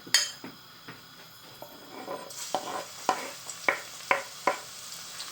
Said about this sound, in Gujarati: ચાલો હવે આપણે ચોપ કરેલું લસણ એડ કરીશું.